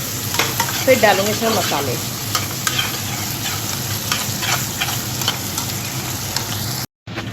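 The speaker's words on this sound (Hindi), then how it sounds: "यहाँ मैंने प्याज, टमाटर, शिमला मिर्च घेर दी है, और इनको अच्छी तरह से तल लूँगी।" Chopped onion, tomato and capsicum frying in a pan, a steady close sizzle with scraping stirring strokes throughout, someone speaking briefly over it.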